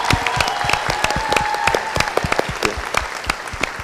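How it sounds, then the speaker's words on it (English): An audience at a live medical talk in a civic center claps steadily for several seconds, a dense, moderately loud round of applause with distinct individual hand claps. "So how about a round of applause for Gloria?"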